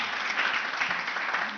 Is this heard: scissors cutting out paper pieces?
no